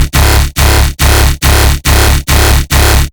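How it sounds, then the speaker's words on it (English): A heavy, distorted synth bass pulses in seven loud, evenly spaced notes, each gritty and buzzing with a brief gap between. "You can add movement with the distortion."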